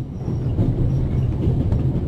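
Train rolling along rails in the game The Raven, a steady low rumble with soft rhythmic clatter, close and continuous for a couple of seconds, no voices.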